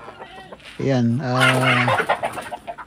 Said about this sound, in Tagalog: nagpapakain po siya ng manok